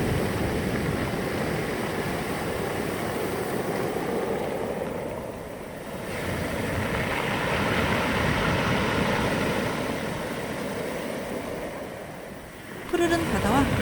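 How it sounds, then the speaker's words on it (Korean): Sea waves wash over round pebbles and sand on a mongdol beach at Gyeongju, a loud continuous rushing surge that swells and recedes, with a brief clatter near the end. "파도 소리, 몽돌 소리 잠시 듣고 가실게요."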